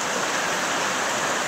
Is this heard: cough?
no